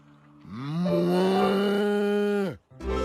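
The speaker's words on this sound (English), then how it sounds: "Or a cow." A cow gives one long, loud moo that holds steady for about two seconds before cutting off, with a soft low grunt just before it and a short noise afterward.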